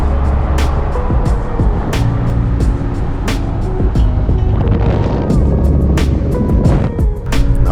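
A rented convertible car driving in Hawaii, with loud continuous road and wind rumble buffeting the microphone and occasional sharper thumps from the road, close and unbroken throughout.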